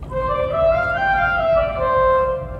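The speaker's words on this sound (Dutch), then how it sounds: "De salicet, ook een strijker." A pipe organ's salicional, a soft string stop, plays a short melodic phrase of a few thin, reedy held notes, moderately loud and alone.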